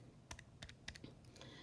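A calculator's keys are pressed about eight times in quick, uneven taps. The clicks are faint and close against a quiet room background.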